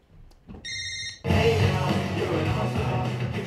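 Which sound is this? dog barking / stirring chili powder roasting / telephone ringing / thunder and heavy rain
telephone ringing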